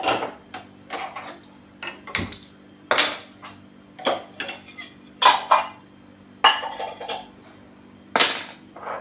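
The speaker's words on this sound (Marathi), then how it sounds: "आता अशा पद्धतीने आता आपण गॅस पेटवून घेऊया" A gas stove burner being lit, heard as a series of sharp metallic clicks roughly once a second, loud and close, over a low steady hum.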